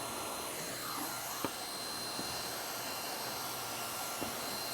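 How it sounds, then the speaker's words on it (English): A hot-air plastic welder blows a steady, loud whooshing roar while welding a T-joint seam on a drain liner, with a few faint clicks over the constant airflow. "So I just weld out my T-joint all the way out to the edge"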